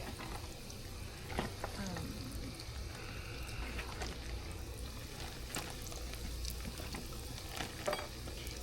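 Biscuit donuts frying in hot oil at a campsite, a continuous bubbling sizzle with scattered crackles and pops, steady and fairly quiet, without speech.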